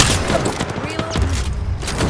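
Rapid gunfire exchange in the Apex Legends battle royale game, dense overlapping shots and thuds filling a brief, loud stretch of combat.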